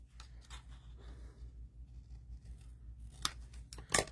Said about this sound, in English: We're going to go ahead and trim this off.